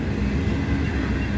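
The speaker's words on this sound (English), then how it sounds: "these are two trains that have been tied together" A long freight train made of two trains coupled together rolling past on the line through Abbeville, a steady, close, dense rumble of wheels and cars with no break.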